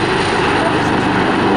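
An Italian Air Force Agusta HH-139B helicopter hovers in a rescue demonstration, its rotor and turbine making a loud, steady, continuous roar close by.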